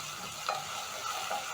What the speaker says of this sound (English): Saute for around 30 seconds until very fragrant.